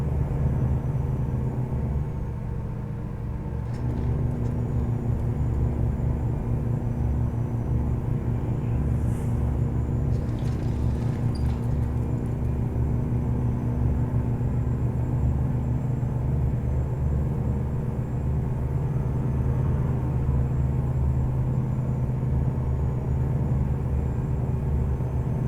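A truck engine idles and rumbles in a low, steady drone throughout, close and constant with a faint whine above it and no talk.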